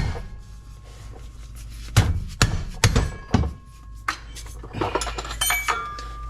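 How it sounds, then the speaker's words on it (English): A dead blow mallet taps a BMW E90 driveshaft loose during an LT4 engine swap, giving about four dull, heavy thunks a second or so apart, followed by lighter metallic clinks and rattles in a garage. "Right here I'm using a dead blow mallet just to tap it loose"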